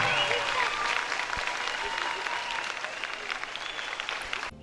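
Teachers and classmates in a school audience applaud young student performers, a loud, continuous burst of clapping that carries on for the whole stretch with faint crowd noise beneath.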